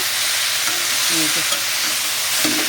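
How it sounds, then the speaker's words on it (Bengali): A cauliflower and potato curry with ground cumin, ginger and chilli paste cooks in a pan, giving a loud, dense, unbroken sizzle close up, with a few faint knocks underneath. "এর মধ্যে জিরে বাটা, আদা বাটা, লঙ্কা বাটা দিয়ে কষানো হচ্ছে"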